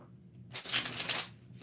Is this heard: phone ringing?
no